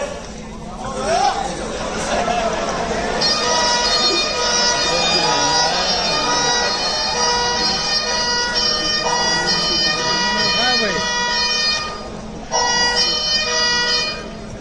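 An ambulance siren sound effect plays loudly and steadily for over ten seconds during an accident skit at a company quality day celebration, with a brief break near the end, while people chatter and talk underneath.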